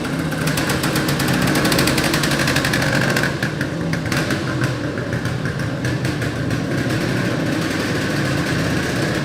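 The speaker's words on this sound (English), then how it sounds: "Two-stroke idle, big bore two-stroke." A 1975 Yamaha DT400 big-bore two-stroke motorcycle idles on its own, making a continuous, close, raspy burble with a rapid, even pulse throughout.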